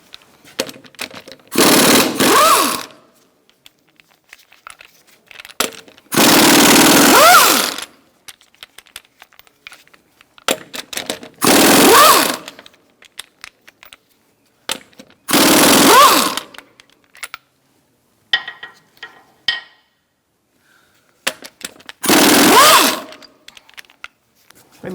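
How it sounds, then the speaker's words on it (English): An impact wrench on a 21mm socket spins lug nuts off a Chrysler 300 wheel in five loud, separate rattling bursts of one to two seconds each, with quiet gaps and small clinks between them. "Using a 21mm socket, we're going to remove our lug nuts"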